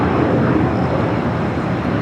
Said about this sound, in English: converted 767 to 300ER, 15 years of age, currently on taxiway Alpha heading down for a south side takeoff on the 25s